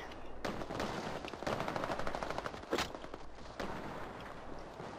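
Rapid automatic gunfire in the online shooter Battlefield Play4Free, dense bursts of shots with a few louder blasts, continuous and fairly close throughout.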